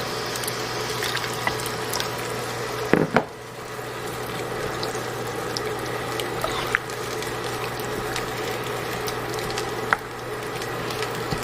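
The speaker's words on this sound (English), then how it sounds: "I'm just going to add some water here." Water poured into a hot roast beef gravy pan sets off a steady low sizzle and bubbling that runs throughout, with a brief clatter near the start and occasional small clicks.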